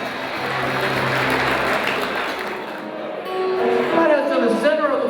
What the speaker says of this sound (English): largest round of applause, folks